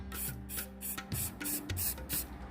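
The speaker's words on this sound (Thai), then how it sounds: "เมื่อเราใช้สีสเปรย์ไปแล้วฉีดพ่นแบบนี้นะครับ" Aerosol spray paint can hisses in a series of short bursts, about eight rapid pulses close to the microphone, with no talking.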